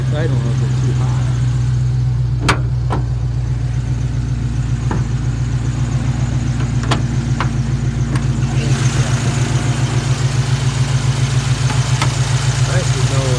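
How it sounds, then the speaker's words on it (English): A car engine running with a Sniper fuel injection system and a newly installed O2 sensor idles slightly high with a steady, rhythmic low drone, loud and close, with a few sharp knocks over it. "Acts like it's idling a little bit too high."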